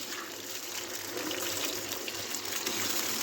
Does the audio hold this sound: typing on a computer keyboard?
no